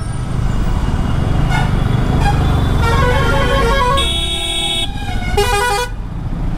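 Heavy road traffic heard from the seat of an R15 V3 motorcycle: loud engine and road rumble with several close horn blasts, some short toots and some long held honks, overlapping near the end.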